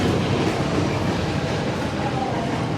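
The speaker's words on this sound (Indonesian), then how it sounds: "Kayak ada kereta yang datang." A KA Menoreh passenger train running from Semarang Tawang to Pasar Senen arrives at a station, a steady loud rumble and rolling rail noise filling the whole stretch without a break.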